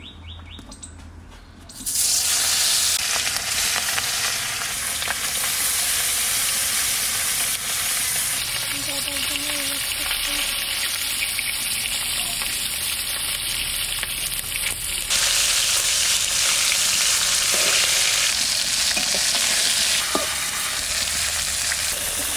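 Oil fries in a pan in a home kitchen with a loud, continuous sizzle and crackle that starts abruptly and runs steadily, with faint bird chirps outside.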